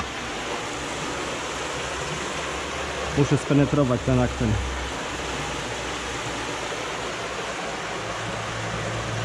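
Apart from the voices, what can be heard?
murmuring stream with a small cascade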